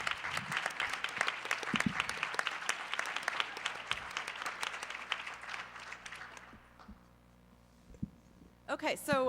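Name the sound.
applause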